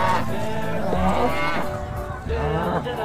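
A black-and-white toy cow gives a long electronic moo in drawn-out, wavering tones, loud and close, in two sustained calls with a short break between them.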